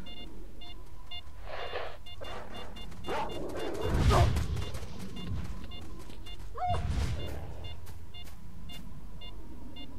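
Dogs barking in the video game Lost Alpha, a few scattered barks, some near and some farther off, over a quiet ambient game background with faint bird-like chirps.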